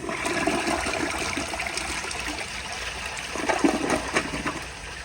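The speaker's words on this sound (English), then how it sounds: "Here is a flush." A 1997 TOTO Carusoe toilet with a cheap plastic replacement handle flushes up close, a steady rushing gush of water that swells briefly near the end before easing toward a trickle.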